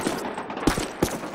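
Suppressing gunfire in Call of Duty multiplayer, a brief stretch of dull distant shots with two sharper reports standing out over a steady noisy battle bed.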